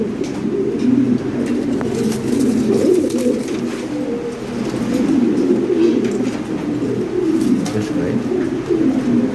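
Lahori pigeons coo continuously nearby, layered murmuring calls from a male and others in a loft, fairly loud and steady throughout.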